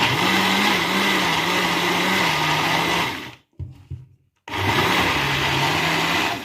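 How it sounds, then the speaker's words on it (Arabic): A loud blender whirs steadily while grinding tahini, cuts out briefly with a few clunks, then starts up again with the same harsh, strained motor roar. "لقيت الخلاط جعر كده"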